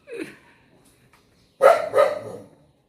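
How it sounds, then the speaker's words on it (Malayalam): A dog, a puppy among the household's dogs, gives two quick, loud, close barks after a brief faint sound, with quiet in between. "ജാക്കച്ചൻ കുരയ്ക്കുന്നത് ഭയങ്കര ഗാംഭീര്യമൊക്കെ കേട്ടോ ജാക്കിയുടെ കുരയ്ക്ക്"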